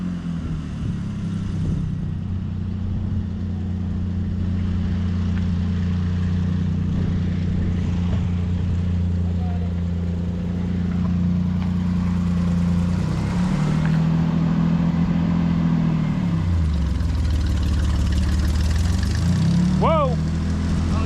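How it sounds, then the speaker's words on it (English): Engine of a 1969 first-generation car idling and rolling slowly forward before pulling over, a steady low hum with a brief pitch dip near the end, while people talk. "Go forward and pull over here."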